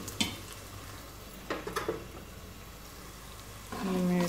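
Chopped tomatoes go into a pan of frying onions and get stirred, giving a few brief scraping stirs against a low sizzle, then a louder burst of frying near the end.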